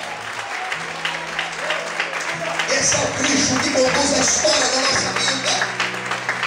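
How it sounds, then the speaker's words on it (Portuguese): A church congregation applauds throughout, a steady wash of clapping beneath a preacher who keeps talking over it, with musical tones held underneath. "Quantos podem aplaudir e exaltar o Senhor?"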